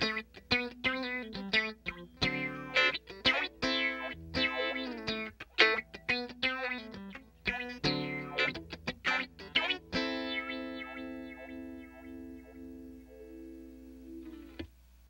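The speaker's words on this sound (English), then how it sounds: "the pedal is allowing you to modulate the phase manually using the swing just like you would a volume or a wah pedal" Electric guitar played through an Electro-Harmonix Stereo Polyphase phaser swept by hand with an expression pedal, with choppy picked notes and chords under a shifting phase, then a long sustained chord fading out.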